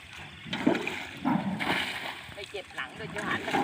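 Water is bailed and splashed by hand in the traditional way, with repeated uneven sloshes and splatters close by while people talk over it.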